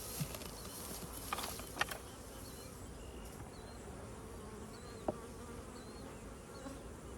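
Steady, continuous buzzing of bees at an apiary, fairly faint and even throughout, with a couple of small clicks along the way.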